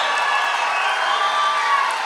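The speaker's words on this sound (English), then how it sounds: "shout, clap your hands," A church congregation at a service shouting and clapping, a dense, steady roar of voices and hand claps blending into one continuous crowd wash.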